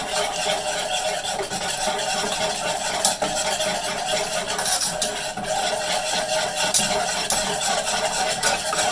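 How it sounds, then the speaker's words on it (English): Chocolate chips melt in hot milk for Mexican hot chocolate while a whisk works the pot, producing a continuous close scraping and swishing with light metallic clinks. "you just want to whisk it up really good"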